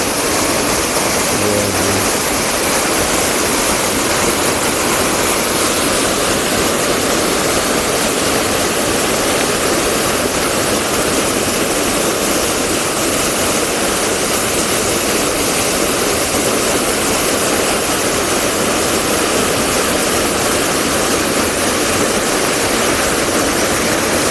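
The Divochi Slozy waterfall roars loudly and without pause, a dense, unbroken rush of falling water heard up close.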